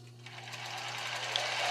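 Domestic sewing machine running a steady straight stitch at 2.5 length through tulle and lace for a bra, a continuous close whirring hum with a low motor drone throughout, no talking.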